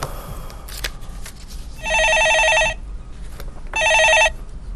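A telephone rings twice during a Korean stock-market phone-in show. Each ring is a loud, steady electronic burst, with a short quiet gap between the two and faint room noise underneath.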